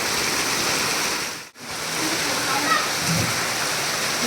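Steady rain pours and splashes outside a house, a dense even hiss that briefly drops out near the middle before resuming, with faint voices in the background.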